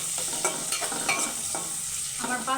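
Ingredients for egg biryani sizzling and being stirred in a brand-new pot, with a steady frying hiss under repeated scraping strokes of a spoon against the metal, close and clear.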